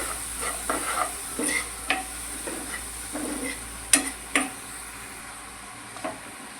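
Boiled green peas fry in oil in a pan while a spoon stirs them, giving a soft steady sizzle broken by a series of light scraping and tapping strokes, close and fairly quiet.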